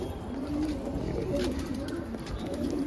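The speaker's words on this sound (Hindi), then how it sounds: "ये रहा कबूतर" A green dobaaz pigeon coos softly and repeatedly close by, low throaty calls over a steady background hum.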